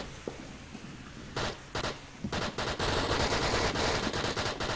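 Sustained automatic gunfire in the VR shooter Onward during a league match, rapid bursts starting sparse then building into continuous loud overlapping fire from several weapons.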